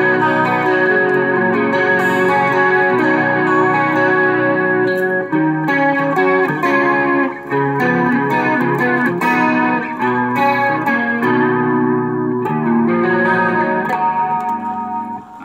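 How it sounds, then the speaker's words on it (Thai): An electric guitar played on an amp's clean channel, with a board of effects pedals, rings out in sustained chords and picked notes, loud and close, with a shimmering chorus-like effect across the whole stretch. "มาใช้ channel ที่1ซึ่งเป็น channel clean ซึ่งเราก็ตั้งไว้สมมุติเล่นเสียง clean"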